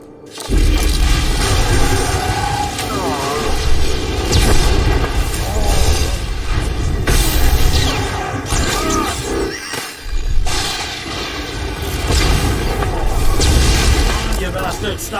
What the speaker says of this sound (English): stop shooting me with the fucking rockets!